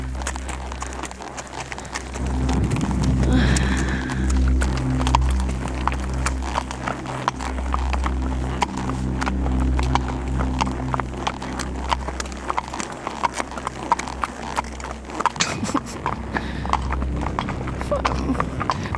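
Steady clip-clop of horse hooves walking on a hard surface at midnight near a cemetery and forest, a continuous rhythmic clatter with voices talking in the background.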